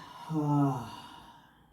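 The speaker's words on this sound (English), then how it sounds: "as you exhale, open the mouth. Release that stale air out." A single breathy exhale through the open mouth during yoga breathing, close and soft, with a slight voiced tone at the start that fades into airy release.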